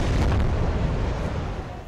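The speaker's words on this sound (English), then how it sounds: "an Israeli airstrike hits a single building" An Israeli airstrike hits a single building in Gaza City, a heavy, broad explosion rumble that starts loud and slowly fades over a couple of seconds.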